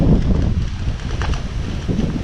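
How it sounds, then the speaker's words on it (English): Strong wind buffets the microphone outdoors on a windy day at a kite-flying spot, a steady loud roar with gusty low rumble throughout and no speech. "Hopefully you can hear me through this wind right now."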